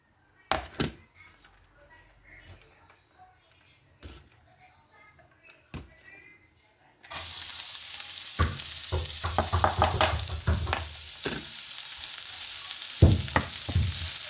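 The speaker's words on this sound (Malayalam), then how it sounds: "ഇനി ഈ സെയിം പാനിലേക്ക് തന്നെ ഈ ചോപ്പ് ചെയ്ത് വെച്ചേക്കണേ ജിഞ്ചർ ഗാർലിക്ക് ആഡ് ചെയ്ത് കൊടുക്കാം" Chopped ginger and garlic go into a hot pan and burst into a loud, steady sizzle after several quiet knocks and faint background sounds, with occasional stirring clicks over the frying.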